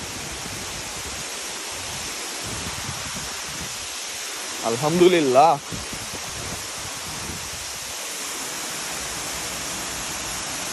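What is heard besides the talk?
waterfall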